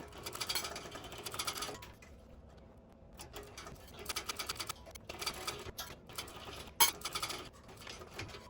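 A sewing machine stitches a Windsor bag in short bursts with pauses between runs, near and fairly loud, mixed with clicks and light handling noise.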